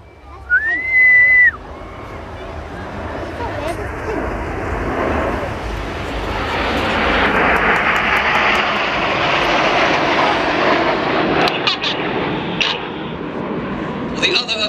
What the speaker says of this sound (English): This is Typhoon!